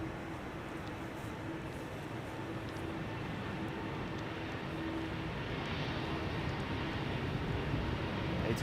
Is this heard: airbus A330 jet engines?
yes